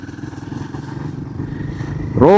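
A Royal Enfield Himalayan motorcycle rides over a rough, broken road at a steady cruise of around 40, its engine droning under low clatter and thumps, with a sharp rising whine near the end.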